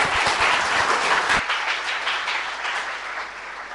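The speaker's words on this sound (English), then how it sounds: "One more time, let's clap very, very loudly" An audience applauds at the end of a speech, with loud dense clapping at first that drops at about the midpoint and carries on as a softer, thinning patter without talk.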